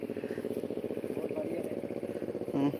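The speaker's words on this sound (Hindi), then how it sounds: "ये है कामा इंजन।" A Kama engine on a power weeder runs steadily with a fast, even chugging rhythm close by, while someone talks over it throughout.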